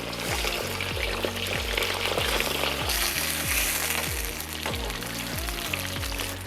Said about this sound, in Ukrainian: Масло гарно нагрілося, закладає в нього м'ясо.